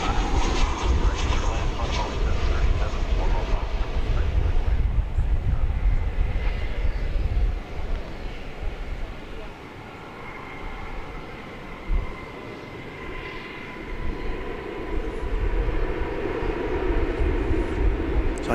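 An Alaska Airlines jet airliner on flight 392 from Portland arrives at DFW Airport, its engine roar broad and sustained at a distance, easing slightly in the middle before swelling again, with a voice talking over it.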